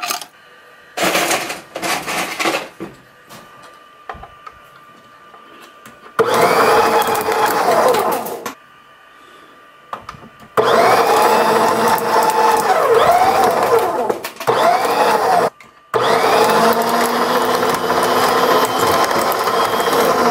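An upside-down shredder chews small pieces of plastic 3D print filament. Loud grinding, rattling bursts alternate with short quiet gaps, the longest runs lasting several seconds each, close up.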